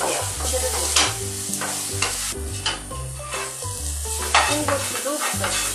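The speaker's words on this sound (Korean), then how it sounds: "양파 먼저 볶으시고요" Onions are stir-fried in a pan for seafood japchae, with a dense sizzle and repeated scraping and tossing strokes up close over a steady low tonal background.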